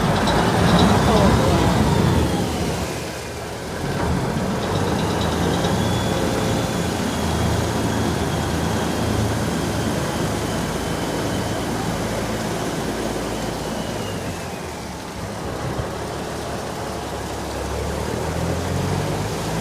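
A canal boat motor on Saen Saep Khlong rumbles steadily and fairly loud throughout, with a brief dip partway, while someone talks over it.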